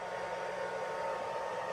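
A blow dryer on its lowest setting dries a soaking-wet young red-tailed hawk, giving a steady, even whooshing hum that carries on without a break and sits close and moderately loud.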